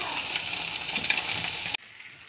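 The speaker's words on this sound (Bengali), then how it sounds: "তার জন্য মাছটা ভালো করে ভাজি।" Fish frying in a pan for a cauliflower and potato fish curry, a steady loud hiss and sizzle that cuts off abruptly near the end, leaving only faint room noise.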